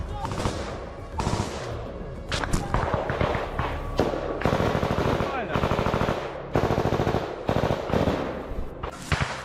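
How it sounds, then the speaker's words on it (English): Heavy machine gun fire and gunfire in frontline combat during an assault, with loud sustained bursts and rapid close shots repeating over several seconds, partly mixed with shouted voices. "The assault group comes under intense enemy fire. They return fire immediately."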